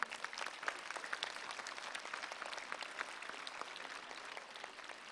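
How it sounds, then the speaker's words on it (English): Applause from an audience at a St. Stanislaus High School event, honouring former students: dense, steady clapping from many hands, sustained and fairly faint, with no voices over it. "A loud applause for them."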